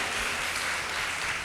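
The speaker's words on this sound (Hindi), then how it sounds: "ताली बजाए परमेश्वर को धन्यवाद दीजिए।" A church congregation at a Sunday service claps together to thank God, a dense, even burst of applause filling the room without pause and with no speaking over it.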